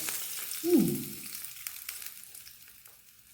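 Cumin seeds and asafoetida hit hot oil as a tempering, giving a sharp burst of sizzling that quickly settles into a softer, fading fry over a few seconds, heard alone with no talking.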